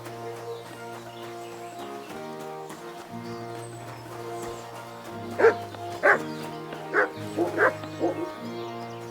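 Dog in Kingdom Come Deliverance II barking in a short run of about five sharp, close barks over steady background music, beginning roughly halfway through.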